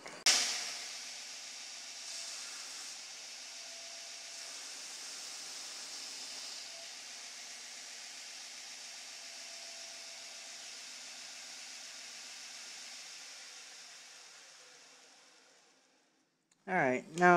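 A belt grinder runs steadily while a flat bevel is ground along a knife blade, a continuous hissing abrasive rush that slowly fades out, with a few sharp clicks at the end.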